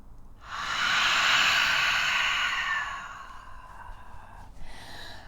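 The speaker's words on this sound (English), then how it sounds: "I'm just centering and taking some nice deep breaths." A single slow, deep breath, a long airy inhale swelling loud then easing into a softer, fading exhale, close and alone in a quiet room.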